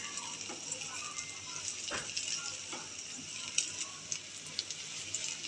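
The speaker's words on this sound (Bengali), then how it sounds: "ডিমটাকে এখন আমি তেলের মধ্যে নাড়াচাড়া করে ঝুরি করে নিচ্ছি।" Scrambled egg stirred in hot oil in a pan, a soft steady sizzle with a few spatula scrapes and light ticks, faint and close.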